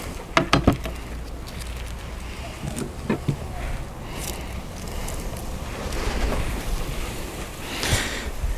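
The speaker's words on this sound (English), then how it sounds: "And now the wind picked up." Wind blows across an outdoor Dutch oven cooking spot, giving a low, steady rumble and buffeting with occasional clicks and faint background voices.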